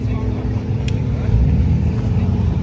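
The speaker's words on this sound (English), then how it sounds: "Aventador, this thing sounds so nice" A Lamborghini Aventador in the GTA video game gives a loud, steady engine drone with a deep low rumble, heard throughout as the car cruises.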